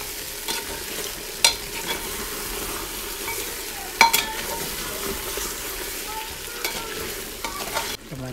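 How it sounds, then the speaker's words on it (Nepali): Goat meat cooks slowly in oil in a pot, giving a close, low bubbling sizzle with repeated scraping and stirring clatter from a spoon against the pan. "मासु बिस्तारै भुट्ने क्रममा छ अब"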